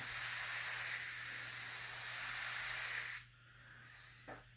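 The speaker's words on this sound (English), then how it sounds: "just kind of spray like a wide light dusting across the name" An airbrush sprays a wide, light dusting of paint across a T-shirt, a steady close hiss for about three seconds that then cuts off abruptly, followed by near quiet and a faint click.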